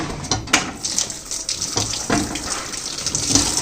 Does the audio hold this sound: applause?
no